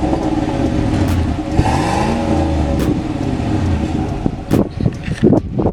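A straight-piped 2019 GMC Sierra pickup revs loudly up close, its raw exhaust climbing and falling in a sweeping rev before settling into a rumbling idle with a few sharp blips near the end.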